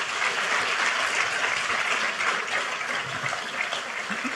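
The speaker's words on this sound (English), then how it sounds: "give them a round of applause" An audience at an event marking the 250th anniversary of the Declaration of Independence applauds steadily, a dense, even wash of clapping that continues throughout.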